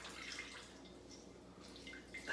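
Water drips and trickles from a pouch of squeezed grated zucchini into a bowl, a very faint, quiet liquid patter with a few slightly louder drops near the end.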